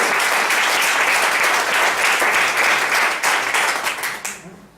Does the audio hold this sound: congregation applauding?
yes